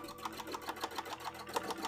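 A sewing machine stitches cosplay fabric in quick, evenly repeating pulses, close and steady, with no talking over it.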